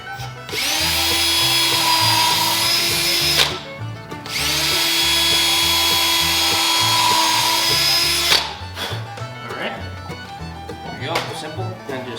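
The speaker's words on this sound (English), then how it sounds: "So what I'm gonna do is pre-drill this." A power drill pre-drills wood while building a chick brooder, whining loud and close in two long runs with a brief pause between them, then a spell of quieter handling noise.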